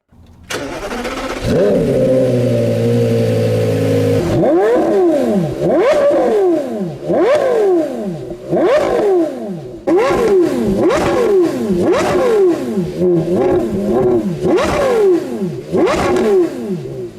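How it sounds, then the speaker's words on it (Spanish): Porsche Carrera GT engine starting with a loud crank and catch, then revved hard again and again, each blip rising and falling in a steady rhythm of sharp, close bursts. "prácticamente nada suena tan bien como el Carrera GT. Escuchémoslo."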